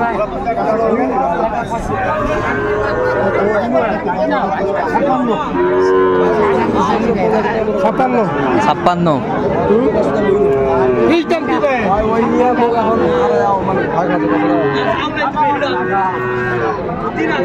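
A young Sahiwal bull calf moos now and then amid a crowded livestock market in Rajshahi, with many voices chattering and bargaining throughout.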